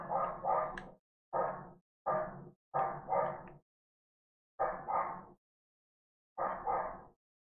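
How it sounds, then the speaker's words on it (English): A dog barks in six short, loud bursts, mostly paired yips and barks with brief gaps between them, close by and with no talking over them. "Hopefully you guys don't hear my dog barking like crazy."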